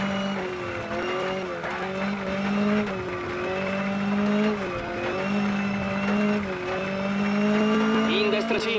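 Toyota Celica Turbo 4WD rally car in the WRC 10 racing game revs hard and holds a strong engine drone, its pitch rising and falling with gear changes. Tires squeal now and then, and someone talks over it.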